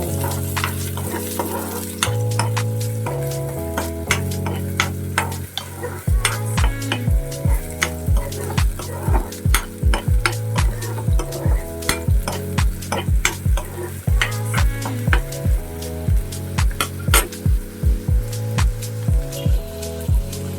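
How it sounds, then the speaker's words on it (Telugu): Chopped onions and green chillies tossed into hot oil for a fish curry, a loud close sizzle with a steady rhythm of spatula scrapes and stirring knocks throughout. "కట్టిసి పెట్టుకున్న ఉల్లిపాయ పచ్చిమిరపకాయ వేసుకోవాలి బాగా కలుపుకోవాలి"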